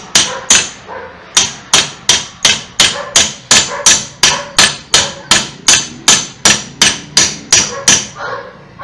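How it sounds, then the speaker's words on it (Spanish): Steady hammering on a metal tube used to drive a part into place on an orange juicer, about twenty sharp, loud, evenly spaced strikes, each ringing briefly before the next. "Yo con este tubo, le pongo aquí y ya se le da con un martillo."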